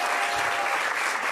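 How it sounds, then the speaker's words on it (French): A studio audience applauds during a televised debate, a dense continuous wash of clapping with no pause throughout. "Maintenant qu'on vous a applaudi tout ça"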